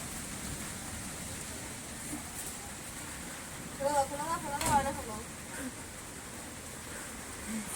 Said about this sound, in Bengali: বাইরে দেখো বৃষ্টি পড়ছে